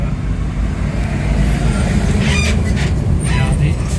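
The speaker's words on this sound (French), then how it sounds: "il n'y a que des camions sur cette route" Trucks roll along a busy road in Mexico on the way to Bacalar, a steady close rumble of heavy traffic with a few passing swells of tire and engine noise.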